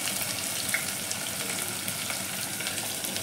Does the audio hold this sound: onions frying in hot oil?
yes